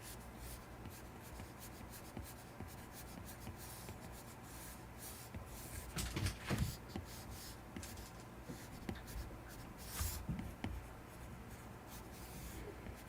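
Stylus sketching a cartoon character on an iPad fitted with a Paperlike screen protector, a faint, close, papery scratching in quick repeated strokes with a few brief louder rubs, and no talking.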